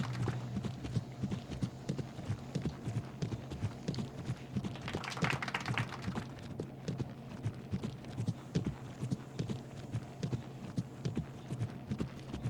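A horse's hooves strike the ground in a steady, even clip-clop rhythm during a dressage test, close and clear for the whole span. A faint voice is audible in the background.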